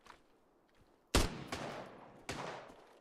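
A few sharp gunshots ring out in a video game, one loud blast followed by lighter shots with decaying tails, fairly close with a quiet lead-in.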